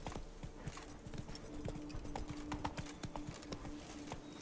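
Galloping horse hooves in The Witcher 3: Blood and Wine, a steady rapid clip-clop of a video game horse running at full speed over a constant low hum, with no talk over it.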